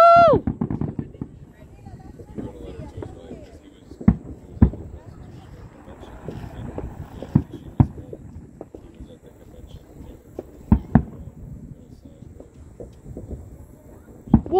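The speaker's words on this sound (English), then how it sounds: "There's like a little bit of fireworks over there" Fireworks burst over a lake at night, a series of sharp booms and cracks scattered across the scene at middle distance, some louder than others, with excited voices talking and cheering throughout.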